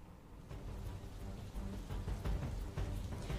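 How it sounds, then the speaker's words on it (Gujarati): Heavy night rain pouring over Ahmedabad during a lightning storm, a dense steady wash of falling water with occasional louder surges and low rumbling, moderately distant, with no voices. "અનેક વિસ્તારોમાં ધોધમાર વરસાદ જોવા મળી રહ્યો છે"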